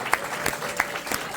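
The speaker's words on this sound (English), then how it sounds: "one more round of applause" Crowd applause at a Trump petition drive rally in Bergen County, New Jersey, a faint, brief patter of clapping with a few sharper claps standing out, partly mixed with voices.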